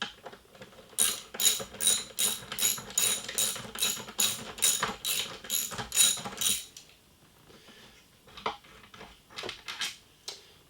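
Ratchet wrench with a 10 millimeter socket clicks close by in a steady, rapid run of sharp pawl strokes for several seconds, then a few scattered clicks and handling noises follow at a cold cabin.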